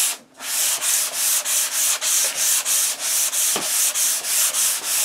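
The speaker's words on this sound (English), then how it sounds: "I'm just going to hold that sanding block like this and sand across." A sanding block rubbed across a prepared surface for acrylic portrait painting, about a dozen steady, rhythmic, close back-and-forth scraping strokes without any talk.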